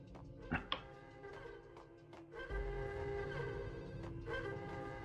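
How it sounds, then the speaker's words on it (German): A telephone rings in the video game Max Payne during a bank-robbery level. Ring bursts with a harmonic tone repeat at intervals over a low droning game ambience, with a couple of sharp clicks early on. "Telefon."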